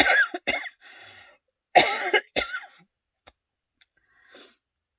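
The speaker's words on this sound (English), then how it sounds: "So I've just start coughing again." Several sharp coughs in short bursts, close and fairly loud, separated by quiet pauses with a few faint breaths.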